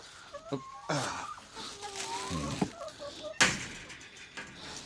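Chickens cluck and squawk softly at close range, with scattered knocks and rustling and a sharp bang partway through.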